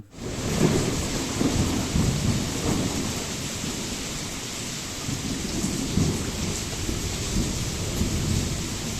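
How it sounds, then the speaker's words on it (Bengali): Heavy rain pours down in a thunderstorm with gusty wind, a dense, steady roar of water on surfaces with low rumbling thunder underneath and no voices. "আর বাড়ি ঢোকা মাত্রই শুরু হলো প্রচণ্ড বৃষ্টি"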